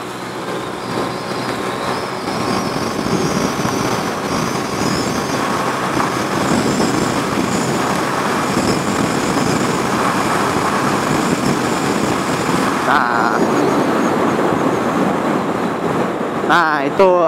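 A Vespa Sprint 150 scooter with upgraded CVT parts accelerates from 0 to 100 km/h, giving a loud, continuous engine drone mixed with heavy wind roar that holds steady for about seventeen seconds before a brief clatter at the end.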